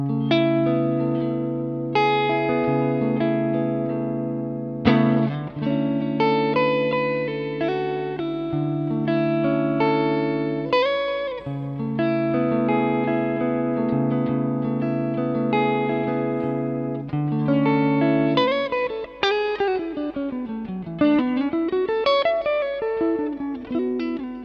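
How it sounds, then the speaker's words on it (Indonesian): Clean electric guitar through an Alnico V neck pickup on a YMS Guitars Standard Series, with light reverb and delay, playing sustained chords and melodic lines alone and upfront, including a smooth pitch bend near the end. "Ada reverb dan delay sedikit. Neck pickup clean-nya seperti ini."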